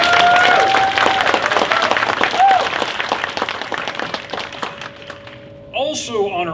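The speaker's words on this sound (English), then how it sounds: "give her a round of applause" A convention opening-ceremony audience breaks into loud, sustained applause that slowly fades as a tone rings under it. A voice speaks over the clapping near the end.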